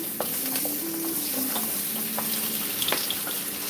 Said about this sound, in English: we're gonna put in our carrots and potatoes